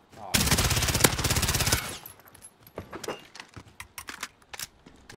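Rapid machine gun fire from Call of Duty Modern Warfare, a loud sustained burst of about a second and a half, followed by scattered quieter clicks and shots.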